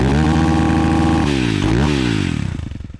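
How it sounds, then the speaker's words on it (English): A pit bike engine runs up close with a loud, buzzy, rattling note, its pitch rising and falling through a rev before it settles toward idle. "This is how a pit bike should sound."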